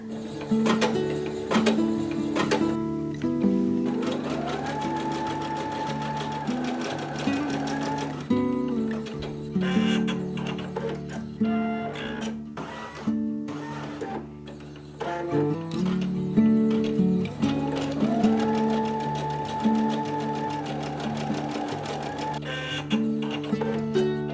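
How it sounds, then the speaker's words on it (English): Computerized embroidery sewing machine stitching a design on fabric for baby toys and nursery items, with rapid mechanical whirring, a rising motor whine as the hoop shifts, and two similar repeating cycles, close and clear. "Let it do a couple stitches"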